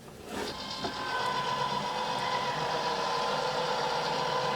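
An AccuQuilt GO! Big die cutter feeds layered fabric through its rollers hands-free, a steady mechanical whirring hum starting after a brief click, moderately quiet and continuous with no speech.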